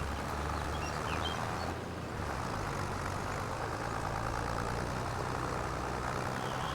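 A small tractor engine labors steadily in a farming video game, a continuous low, rumbling drone close by with no pauses throughout.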